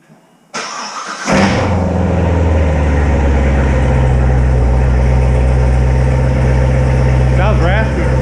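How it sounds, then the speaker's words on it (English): A 2019 Corvette Z06 engine with a new Kooks X pipe exhaust cranks and fires up on a cold start, then settles into a loud, deep, rumbling idle with a raspy exhaust tone, a voice briefly heard near the end. "cold start with new Kooks X pipe"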